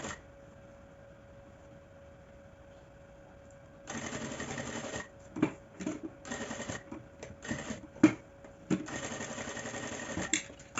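A sewing machine stitches a small baguette bag, backstitching in short bursts of rapid needle clatter separated by pauses, close and fairly quiet.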